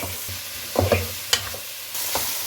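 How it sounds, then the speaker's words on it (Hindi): Onion mixture frying and being stirred in hot oil in a pan for a bhindi fry, with a steady sizzle and a few scraping stirs, close and clear with no talking. "अभी इसमें हमने जो प्याज का मिक्सचर हमने तैयार किया वो डाल दें। 1 मिनट के लिए बस इसके ऑयल में फ्राई कर लें।"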